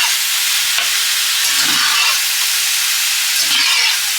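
Onions frying in a hot pan give a steady, loud broadband sizzle that holds throughout, with a couple of soft low clunks from stirring; no one speaks.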